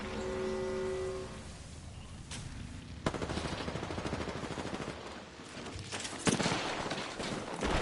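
Sustained video game gunfire rattles in continuous machine-gun bursts with sharper single cracks, loud and dense throughout, with a tonal hum early on and no talking.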